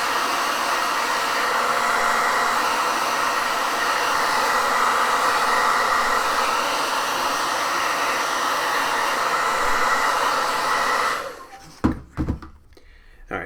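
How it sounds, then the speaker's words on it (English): A hair dryer blows on the back of curled paper, a steady close rushing hiss that runs for about eleven seconds and then cuts off, leaving a few soft knocks and handling sounds. "hit the back with the hair dryer and maybe flatten it out a little bit."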